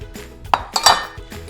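A metal fork clinks against a plate of shrimp bucatini pasta with tomato, giving a few sharp, close taps spread over a second and a half with no talk.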